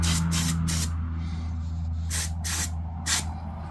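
An airbrush or spray can coats a Tamiya FAV model kit with thin paint in six short, sharp hissing bursts, three close together then three more spaced apart, over a steady low hum.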